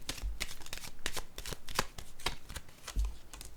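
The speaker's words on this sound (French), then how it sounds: "je vais piger une carte sur le reculé" Oracle cards are shuffled and drawn by hand, making soft, close riffling and flicking bursts at an irregular rhythm, quiet and with no speech.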